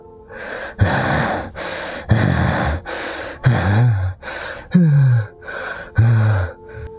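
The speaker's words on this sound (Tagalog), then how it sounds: "Sabay hingal na parang malapit nang mawalan ng malay." Heavy, ragged panting breaths as if about to faint, a series of about nine loud, close gasps and exhales in uneven rhythm, some with a vocal groan, with no words.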